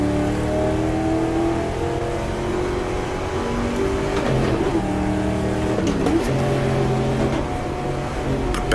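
A 1960s endurance race car in the GTR2 racing game, set at the 1966 Daytona 24 Hours, drops into second gear, loud engine drone dipping and blipping through the downshifts, close and continuous with no talk.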